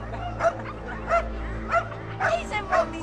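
Several terriers bark and yip in short bursts, about five loud yaps over steady background hum, with a voice mixed in among the dogs.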